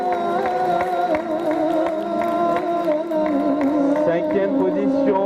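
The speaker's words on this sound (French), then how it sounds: "Applaudissements pour elle, s'il vous plaît" Crowd noise at a quarter-final contest, a steady murmur of voices with scattered claps and cheers behind a strong sustained tonal background that runs throughout.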